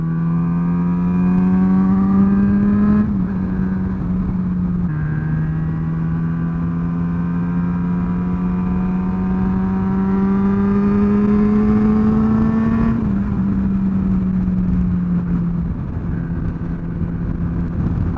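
A car engine revving hard from inside the vehicle on a drive, with loud rising and falling engine tones through repeated gear changes and sustained throttle, no talking.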